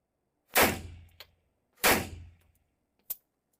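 Two sharp, loud pistol reports from a Webley 1908 semi-automatic pistol ring out more than a second apart, each with a decaying echo tail, followed by a brief metallic click-like clack.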